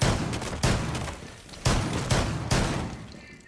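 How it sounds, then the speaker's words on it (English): Shotgun blasts in the video game Rainbow Six Siege, three or four loud booming shots spaced about a second apart, each with a long decaying tail, no talk. "Shoot him with a shotgun, bro."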